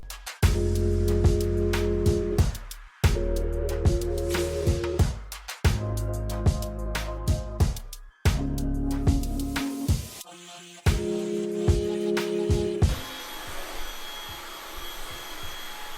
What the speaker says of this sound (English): I'm going to use the HomeVac S11 Go to clean up that area, but also my office